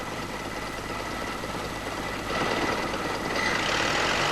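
A conventional petrol engine idles steadily during a tune-up, a low even rumble that rises slightly in loudness partway through, with no talking.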